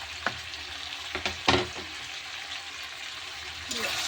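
Meat with salt and chopped tomato cooks in a pan, giving a steady frying sizzle broken by a few scraping stirs, with a voice briefly audible.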